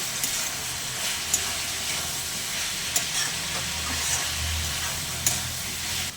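Banana flower with fried prawns and ground cumin, coriander and Kashmiri chilli sautéed in a pan, giving a steady close sizzle with a few sharp spatula knocks.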